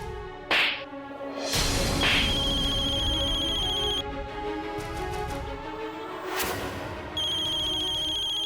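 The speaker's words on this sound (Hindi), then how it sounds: "फोन आल बा, नागेश भैया के फोन, तोहरा खातिर फोन के लिए" A phone ringtone sounds in repeated electronic tones, fairly loud and close, with a few whooshing transitions between rings and no talking.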